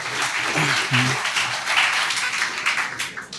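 An audience at a Hindi-medium UPSC exam coaching session applauds, a steady dense wash of clapping that stays loud throughout the few seconds, with a faint voice briefly audible underneath.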